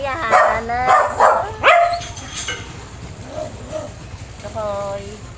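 A small dog yips and whimpers close by in several short high bursts, with quieter whines between them and people talking in the background.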